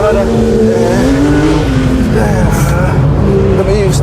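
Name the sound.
Porsche 911 GT3 (992) engine accelerating at full throttle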